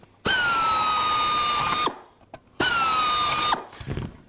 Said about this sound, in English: Now we're going to up drill that from the 40 drill to a 30 drill